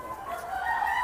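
An Ayam Cemani rooster crows once in a single drawn-out call, fairly close and clear against a quiet background.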